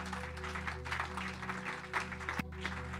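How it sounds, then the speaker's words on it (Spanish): Applause at an evangelistic church service, a dense steady clapping from a congregation over a sustained organ or keyboard drone, moderately loud throughout. "Un aplauso fuerte al que vive, hermano."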